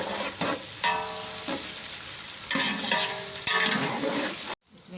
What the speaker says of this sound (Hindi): ये 1 चम्मच लहसुन का पेस्ट डालूंगी।